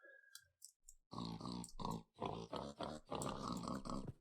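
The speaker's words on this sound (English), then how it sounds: "That's a very nice song you're singing there, pigs." Pigs oinking in the Minecraft video game, a run of dense grunting calls filling most of the clip after a quieter opening, loud and steady with short gaps.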